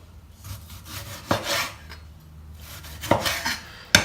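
Knife cutting into a tomato on a board for vegan guacamole, with soft slicing rasps and a few sharp clicks of the blade meeting the board, close and clear with no talking.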